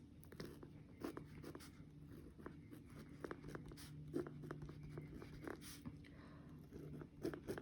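Pen or pencil scratches on paper in soft, irregular strokes, quiet and close, with faint background hum and no speech.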